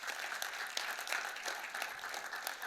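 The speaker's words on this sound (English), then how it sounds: "that deserves a round of applause" Audience applause at a State of the City address in New Haven, a steady wash of many hands clapping at moderate level throughout, with no voices over it.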